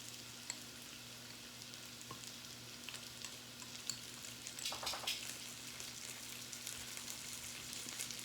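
Stirring and mixing a General Tao sauce in a pan, a steady soft frying hiss with light scraping clicks and brief bursts of stirring, fairly quiet throughout with no talk.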